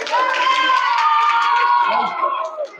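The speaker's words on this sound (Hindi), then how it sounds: "जोरदार तालियां बजाएंगे।" A school New Year celebration audience breaks into clapping mixed with loud crowd cheering and children's voices, a dense, steady wall of sound that holds throughout and eases slightly near the end.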